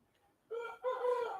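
Chickens in a backyard setting give a short burst of crowing and clucking, loud and near, two rising calls within about a second with no talk over them.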